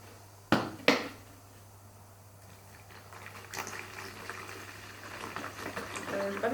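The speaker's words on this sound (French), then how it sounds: "Et ensuite, vous rajoutez de l'eau chaude." Hot water poured into a bottle already holding white vinegar for a homemade cleaning product, building into a steady rushing, gurgling fill after two sharp knocks, fairly faint and close.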